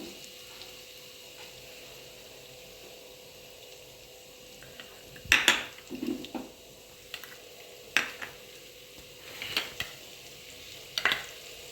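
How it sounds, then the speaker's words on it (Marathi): Green chilli and ginger paste with a little salt sautés in a pan, giving a faint, quiet sizzle marked by a series of soft scraping stirs and light utensil taps. "मिरची अशी मस्तपैकी थोडीशी परतून झाली"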